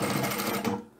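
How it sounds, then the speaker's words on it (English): A sewing machine runs a quick close burst of stitching along the side seam of a fabric shopping tote, rapid mechanical chatter that cuts off briefly near the end. "Start sewing at the top there."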